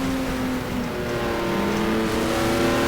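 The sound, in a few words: Matra V12 naturally aspirated race car engine in video game GTR2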